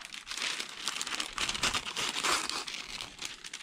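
Wax paper crinkles and rustles steadily as scissors cut a sheet in half, a continuous close crackling papery sound with no talking.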